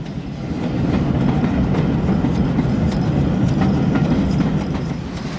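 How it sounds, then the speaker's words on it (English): A double-chimneyed GWR Castle class steam locomotive rolls in with a train at Paddington, a loud continuous rumble with rhythmic wheel clatter that swells and then eases slightly as it arrives. "an immaculate double-chimneyed castle arrives with a train from the West Country"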